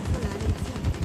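Rapid gunfire in the Rainbow Six Siege video game, a short burst of several quick, evenly spaced shots that sounds fairly loud and close, with no talking over it.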